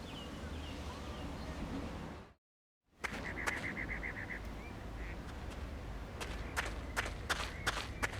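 Ducks quack in the point-and-click adventure game Secret Files 2: Puritas Cordis, a quick run of nasal quacks over soft ambient outdoor noise with occasional sharp clicks, after a brief silent break.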